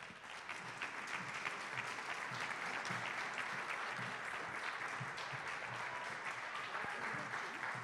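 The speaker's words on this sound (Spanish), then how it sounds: "Le damos un fuerte aplauso" A conference audience applauds, a dense burst of many hands clapping steadily throughout, fairly loud and sustained with no pause.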